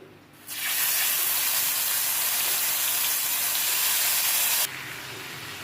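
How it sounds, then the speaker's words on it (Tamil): Chicken tikka pieces dropped into hot oil set off a loud, steady frying hiss that starts abruptly, holds for about four seconds, then eases down to a softer sizzle. "இப்போ நம்ம ஒரு பீஸாக போட்டு ஃப்ரை பண்ண ஆரம்பிச்சிடலாம்"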